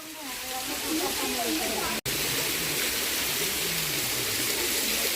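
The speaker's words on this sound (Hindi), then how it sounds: "झरना आ गया" A waterfall rushes in a broad, steady hiss that fills the whole clip, loud and close, with people talking over it.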